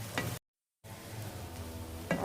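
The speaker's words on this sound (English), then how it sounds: "So we just saute this for a little 3 to 5 minutes." Food is being sautéed in a pan with a soft steady sizzle. Faint stirring sounds come and go, and the sound cuts to a brief silence before resuming, with no voices.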